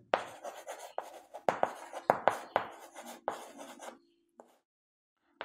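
A pen writes an answer by hand on paper during a fifth-grade math lesson, making quick rhythmic scratching strokes up close that stop shortly before the end, with no talking.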